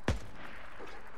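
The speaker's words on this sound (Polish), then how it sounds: "Kto strzela? Atakują nas!" A single gunshot in the game Days Gone, a sharp, loud crack at the very start that quickly fades into a quiet outdoor ambience with no further shots.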